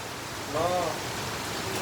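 Heavy rain falls in a dense, even hiss close by, steady throughout with a short tonal sound briefly over it.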